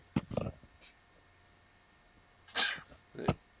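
A single sharp sneeze bursts out between brief, quiet bits of speech, close and loud against near silence.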